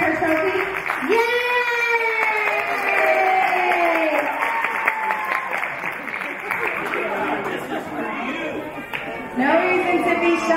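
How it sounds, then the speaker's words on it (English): Audience applause and cheering for girls receiving trophies at a ceremony, sustained clapping mixed with crowd noise and a prominent voice or music over it. "round of applause for your girls"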